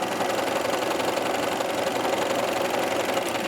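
A sewing machine stitching a hem on knit fabric for a faux wrap dress runs in a steady, close, continuous mechanical whir with a fast rhythmic needle chatter throughout, with no talking.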